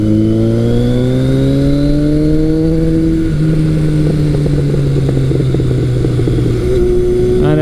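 A big-bore vintage Kawasaki KZ1000 motorcycle engine revs loud and close, its pitch climbing and holding in a sustained throaty drone, with a brief dip midway before rising again at the end.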